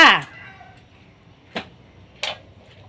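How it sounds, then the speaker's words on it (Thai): A gas stove in a home kitchen is switched on for making soup. Two sharp, separate ignition clicks ring out over quiet room tone after a brief burst of voice. "เราเปิดแก๊สได้เลยจ้า"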